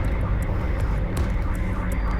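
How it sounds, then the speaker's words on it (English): Submarine propeller cavitating during a dive in the naval combat game Cold Waters: a steady, loud broadband rumbling churn with hissy wash that runs unbroken throughout, with no speech. "we are cavitating"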